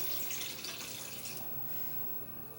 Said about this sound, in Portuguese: Vou colocar aqui 3 xícaras de água